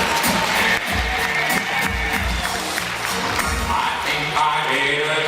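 Crowd applause at the final of a beauty pageant as the winner is announced, dense clapping mixed with cheering and hall noise, loud and continuous, with heavy low thumps underneath.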